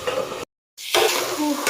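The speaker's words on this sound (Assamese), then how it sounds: "মোৰ ভাজিখিনি প্ৰায় হৈয়ে গ'ল আৰু অলপ বাকী আছে।" Vegetables are stir-fried in a pan with close, bright sizzling and stirring, cut by a short moment of silence before the frying resumes.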